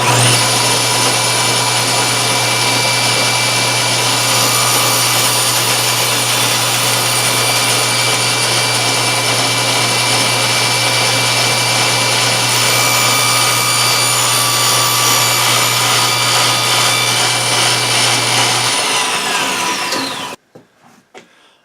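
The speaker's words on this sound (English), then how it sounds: "we'll start up the saw, and we'll cut this one piece" A power saw whines loudly and continuously as it cuts through wood, a steady high-pitched buzz over a low hum, then spins down and stops.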